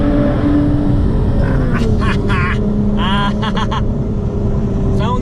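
Supercars climb a mountain pass during a rally, engines roaring steadily and close, with rising revs and several sharp higher-pitched passes over a constant low drone.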